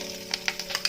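Curry leaves hit hot oil and sizzle in a brief burst, with several sharp crackles popping close by.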